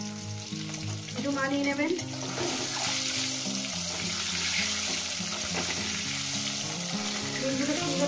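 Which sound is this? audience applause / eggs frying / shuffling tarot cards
eggs frying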